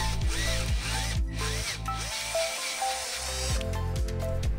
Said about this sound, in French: Tu commences déjà par percer un peu plus large.